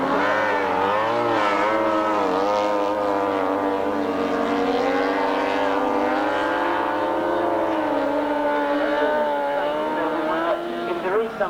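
Grasstrack racing motorcycles at the 1993 British Masters roar hard down the back straight, a loud, continuous engine drone whose pitch rises and falls, with a commentator talking over it.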